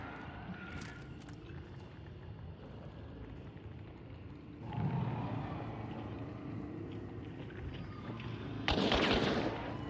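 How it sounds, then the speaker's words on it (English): Distant gunfire from a firefight in the video game Hunt: Showdown, heard as faint muffled booms and cracks over a low ambient rumble, with a louder burst near the end. "I'm not exactly sure what they're shooting at, but wasting their ammo is fine with me."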